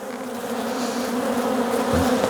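Honeybees buzz in a dense, steady drone at an open hive in late March, many insects humming together up close with no voices.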